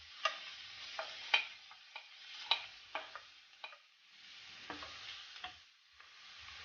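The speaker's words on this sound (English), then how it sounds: "This is onions and garlic in there." Onions and garlic sizzle in vegetable oil in a frying pan, a soft steady crackle broken by sharp scraping taps as they are stirred, with no talking.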